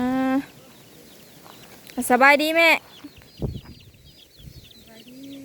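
Chickens cluck on a farm in two short bursts, a brief call and then a louder, rapid run of clucks, with people talking between and after them.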